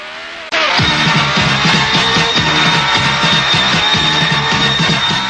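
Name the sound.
race cars at the Italian Grand Prix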